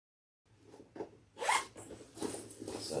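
A zipper is pulled in short bursts on the pocket of a handmade sewn bag, close and crisp, with a few quick rasping strokes and handling rustle between them.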